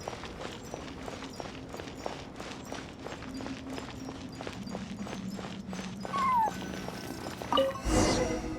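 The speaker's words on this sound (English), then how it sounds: "And so, I followed the cat's cries to find my way out." Cat meows and cries in Genshin Impact during a ruins exploration quest, over steady game footsteps and ambience, with a rising cry near the end and louder calls at the close.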